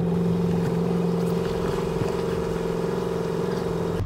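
A 1952 Bayliner Capri boat engine runs steadily on the water, a constant droning hum with a slight rhythmic throb.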